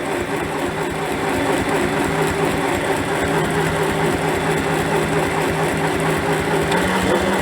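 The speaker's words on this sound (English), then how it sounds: "this is as fast as the sewing machine will sew" A sewing machine runs steadily at its top speed sewing tote bags, a dense rapid mechanical whir with rhythmic clatter, close and continuous with no voices.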